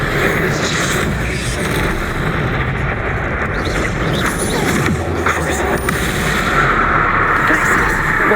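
Confringo fire spell blasts in Hogwarts Legacy, a loud, unbroken run of explosive bursts and crackling impacts that stays dense throughout, with combat sounds layered on top.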